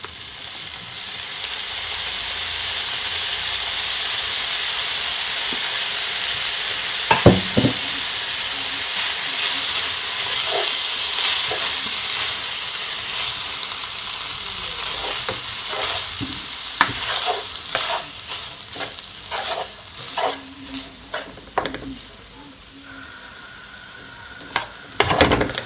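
Hibachi steak, shrimp and rice stir-frying in a hot pan with dark soy sauce added, a loud continuous sizzle and hiss broken by repeated scraping and clanking of a utensil stirring.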